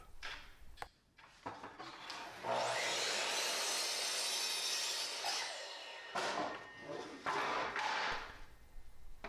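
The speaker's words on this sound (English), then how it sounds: "I'm basically just cutting a lot of 2-foot pieces out of birch tongue and groove." A saw cuts birch tongue-and-groove boards into two-foot pieces, a rough rasping stroke rising into a sustained cut for several seconds, then shorter bursts of sawing with brief pauses.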